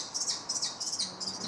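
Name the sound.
kestrel chicks calling in the nest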